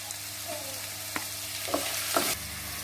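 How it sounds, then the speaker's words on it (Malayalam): Green chillies and chopped onion sautéing with spices in a pan, a steady low sizzle with a few scraping stir strokes against the metal, close and moderately loud, no talking. "കളർ മാറുന്ന വരെ നമുക്ക് വഴറ്റാം."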